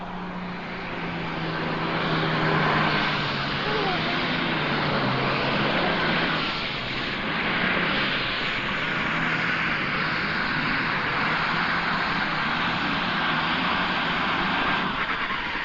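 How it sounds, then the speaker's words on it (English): A triple-turbocharged Allis Chalmers D21 pulling tractor roars continuously at a tractor pull, with the engine's loud, sustained drone swelling and easing slightly as the run goes on; no one speaks over it. "So coming up next will be Dennis Morlock, the circuit breaker, Alice Chalmers D21. Triple turbocharged setup"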